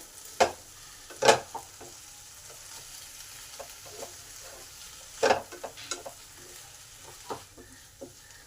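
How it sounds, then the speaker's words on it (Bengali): Spice paste for gima saak chorchori is stir-fried in a pan, with a soft background sizzle broken by sharp, irregular scraping strokes of a spatula, some louder than others. "এই মশলাটাকেও দুই থেকে তিন মিনিট কষে নেব যাতে মশলার কাঁচা গন্ধটা চলে যায়"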